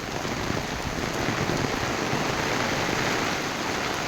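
Heavy monsoon rain in Mahabaleshwar pours down steadily, a dense, loud hiss of drops drumming on surfaces with no break throughout.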